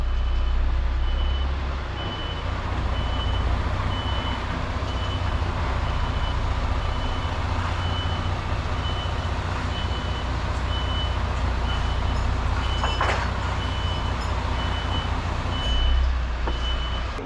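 A truck pulling a trailer reverses at a pallet yard, its reversing alarm beeping steadily at an even pace over a loud, constant diesel engine rumble.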